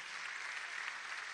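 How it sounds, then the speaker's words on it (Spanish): Audience members at a political memorial tribute applaud, a steady wash of clapping heard faintly and evenly through a brief moment. "Un aplauso, camaradas"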